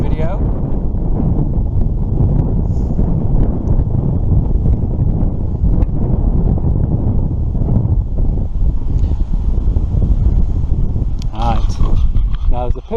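Strong wind buffets the microphone on the exposed top of Cadbury Castle hill fort, a steady, loud, rough roar that continues throughout while someone talks.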